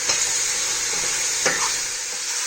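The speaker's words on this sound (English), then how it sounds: "And you try to stir this as fast as possible, and you'll start to see that your mushrooms will shrink." Mushrooms and vegetables frying in a large pot for a Vietnamese vegetarian stew, stirred quickly: a steady close sizzle with scraping stir strokes, one sharper clatter near the middle, no talking.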